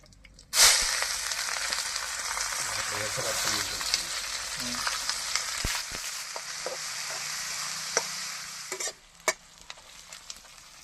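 Onion drops into hot oil already holding bay leaf and whole cumin, bursting into a loud sizzle that continues under stirring and scraping, then cuts off sharply near the end.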